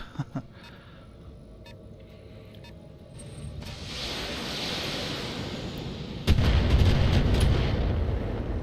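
LRM missile barrage in the mech combat game Battletech, a rising rumble of launches and impacts that swells after a few seconds, then a heavier sustained roar of explosions near the end.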